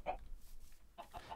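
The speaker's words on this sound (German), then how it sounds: "Lauter Aufregung hat ein Huhn erstmal ein Ei gelegt." A Minecraft chicken gives two short bursts of clucking after laying an egg, faint and brief, with a quiet gap between them.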